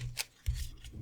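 Cards shuffled for a pick-a-card reading, a short close riffle of soft papery flutters and taps, quiet, with no talking.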